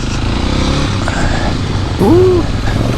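Adventure motorcycle, a Yamaha T7 or Super Sherpa 250 on Tusk 2Track ADV tires, grinding along an off-road trail with the rider standing; a steady loud engine drone with wind and a brief rise, while people talk over it.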